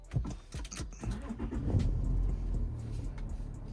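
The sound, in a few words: engine starting on a 3.0 TDI car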